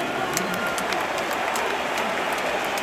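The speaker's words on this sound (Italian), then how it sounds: "facciamo un grande applauso al nostro falconiere Wonder Robert." Stadium crowd at the Stadio Olimpico applauds the falconer before a Lazio–Milan football match, a broad, steady wash of distant clapping from many fans with no speech over it.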